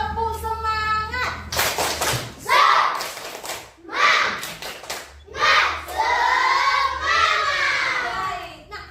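Children in an Indonesian classroom perform a rhythmic group clapping chant, bursts of patterned claps and thumps mixed with shouted voices, loud and close.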